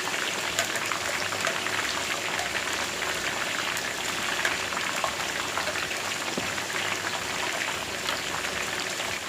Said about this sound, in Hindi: और फुल तेज़ आंच पे हमने इसको फ्राई करना है।